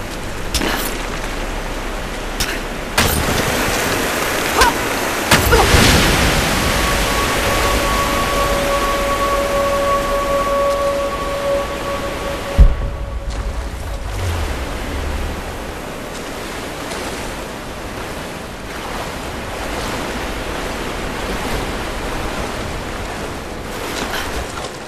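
In the video game Rise of the Tomb Raider, water rushes loudly at a sluice gate as a dense, continuous roar. A short tonal hum and a heavy thud break it midway, and no one speaks.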